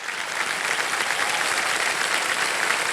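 A studio audience on the TV quiz show Kaun Banega Crorepati claps steadily and loudly, a dense, even wash of applause with no voices over it.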